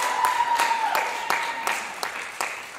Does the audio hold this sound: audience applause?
yes